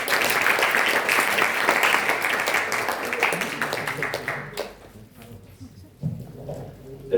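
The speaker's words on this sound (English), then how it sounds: "Let's give him a round of applause." An audience at a school YSF talk claps for its president, a dense round of applause lasting several seconds before dying away into quiet room noise.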